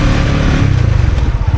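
A manual motorcycle engine held at high revs in a rough, steady over-revving drone, loud and close, with no one talking.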